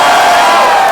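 A college audience at a Matisyahu Q&A cheers and whoops loudly in a short, dense burst of crowd noise.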